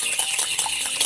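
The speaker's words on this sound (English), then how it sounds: "I'm just going to give that a quick stir." Beaten egg and canola oil stirred briskly in a bowl, a steady close-up scraping and swishing of utensil against bowl with no voices.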